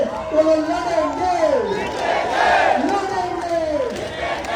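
Rally crowd chanting the slogan "ladenge" together, a massed chorus of voices rising and falling in repeated calls, loud and close throughout.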